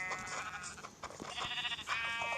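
Sheep bleat in a survival video game, with several close, wavering calls overlapping in quick succession over faint game ambience.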